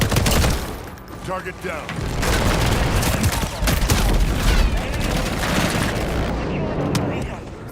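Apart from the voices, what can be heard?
enemy gunfire in Modern Warfare video game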